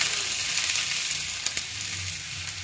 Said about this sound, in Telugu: బాండి పెట్టి కొంచెం ఆయిల్ వేసి అందులో చిన్న చిన్న ముక్కలుగా కట్ చేసుకున్న ఆనియన్స్ని వేయాలండి